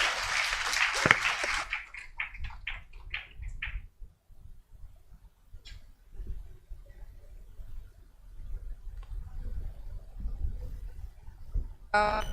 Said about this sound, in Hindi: ताली बजाकर हम उनका स्वागत करें।